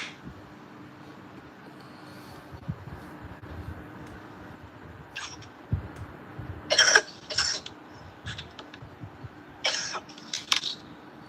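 A few sharp coughs break out in short bursts over a low background hum, with quiet pauses between them.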